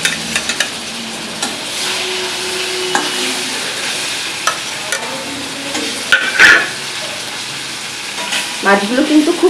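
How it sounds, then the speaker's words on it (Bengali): Hilsa fish frying in Amul butter in a pan, a steady close sizzle with occasional stirring scrapes and a few sharper crackles, no talking. "মাছগুলি প্রথমে আমি বাটার দিয়ে ভেজে নেবো"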